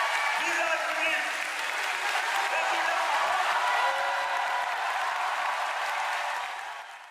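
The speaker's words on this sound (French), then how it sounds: "Applaudissements et cris de joie ont résonné au quartier général" Sustained applause mixed with crowd cheering and shouts at Emmanuel Macron's headquarters on French presidential first-round election night, loud and dense throughout, fading slightly at the end.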